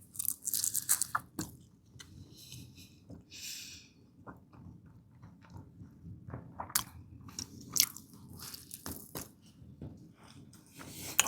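Crunchy goulash pastry filled with meat is bitten and chewed up close, with sharp crisp crunches at first and then quieter, softer chewing and squishing in a near-silent room.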